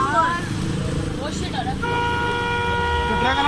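A loud, sustained truck horn blares close by amid engine noise, with people talking over it.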